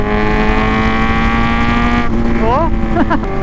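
A big motorcycle, a Ducati Diavel or Z1000R, holds a loud, steady engine drone close by, then its pitch drops and wavers toward the end.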